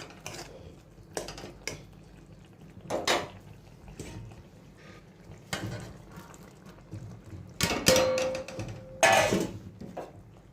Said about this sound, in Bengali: আর একবার ভালো করে নেড়ে ভেজে রাখা পটলগুলো দিয়ে দেবো